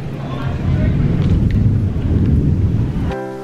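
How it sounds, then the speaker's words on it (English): A deep, rumbling roll of thunder swells and fades over a few seconds, loud and low, before giving way to a different sound at the end. "Hear the thunder."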